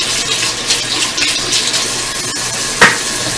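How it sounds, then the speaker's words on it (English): Water runs steadily from a tap into a sink, a continuous close hiss with a brief louder splash near the end, and no voices. "you just want to turn on your water"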